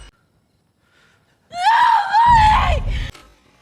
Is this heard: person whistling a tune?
no